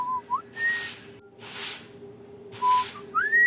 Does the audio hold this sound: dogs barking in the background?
no